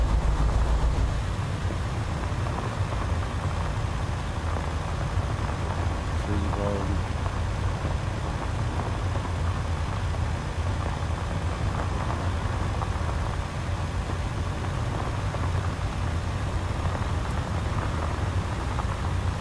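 Truck engine in a driving video game running steadily at a low, constant drone throughout, with a faint mechanical whine layered on top and no spoken words.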